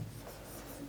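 Someone writes on a board in one continuous, scratchy stroke that sounds close and fairly quiet, with no speech.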